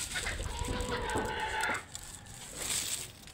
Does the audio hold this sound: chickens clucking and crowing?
yes